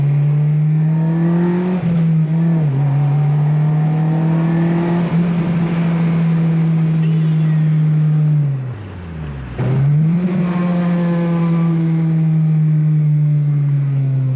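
A 2000s Acura RSX Type S with aftermarket mods runs loud and steady, engine droning through a held pull, then briefly dips in revs around the middle before climbing back to a sustained, strong engine note with no talking.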